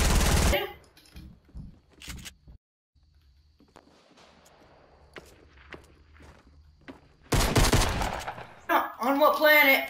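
Quad SMG fire in a video game: loud bursts of rapid automatic gunfire at the start and again near the end, with single sharp shots and quieter footsteps in between, and a voice talking at the close.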